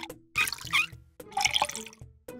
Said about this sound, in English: Three bowls of water coming right up.